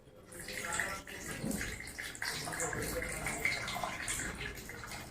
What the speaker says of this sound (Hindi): जैसे ही हम लकड़ी के टुकड़े को पानी में डुबा रहे हैं धीरे धीरे पानी बाहर आना शुरू हो रहा है।